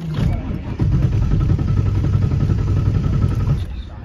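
A highly modified 1988 Ford Mustang GT Fox body V8 rumbles steadily under acceleration while driving, a loud continuous low engine drone from start to finish.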